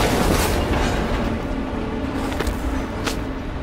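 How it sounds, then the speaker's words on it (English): A train rumbles and clatters on its rails in the Call of Duty Black Ops Cold War video game, slowing as it nears a station; the steady broadband rolling noise carries on throughout, with a few sharp clanks. "Train's slowing down."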